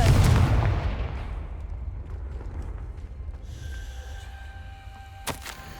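A Confringo blasting spell erupts in Hogwarts Legacy as a loud, booming explosion at the start, its roar decaying over a couple of seconds into a low rumble, followed by faint magical chimes and a sharp crack near the end.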